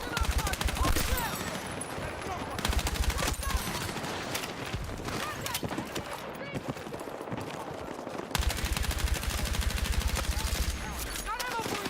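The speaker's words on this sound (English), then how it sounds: "I'm using the QBZ that I've just unlocked." Rapid bursts of QBZ carbine fire with no attachments in Battlefield 6, loud and close, in repeated automatic strings over dense battle noise, with a voice speaking at times.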